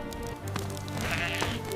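Sheep bleat in a short, busy scene with a musical backdrop, several overlapping calls rising and falling across the clip, fairly close and at moderate loudness.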